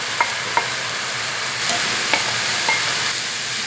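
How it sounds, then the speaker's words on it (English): Spinach hitting hot extra virgin olive oil in a pan gives a loud, steady sizzle with a few sharp pops and stirring scrapes over the top, heard alone. "Just going to add a little more extra virgin olive oil. And in goes the spinach."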